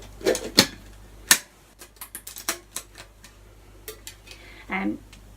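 A stainless steel tiffin box being opened and handled: sharp metallic clicks and clanks of clips popping off and sections shifting, scattered knocks and a short scraping rattle near the end, close and fairly loud.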